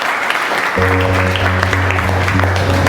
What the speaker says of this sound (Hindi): तो जोरदार तालियां फिर अपने लिए बजा लीजिए।